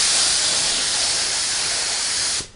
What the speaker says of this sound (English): We'll spray some right through the nozzle.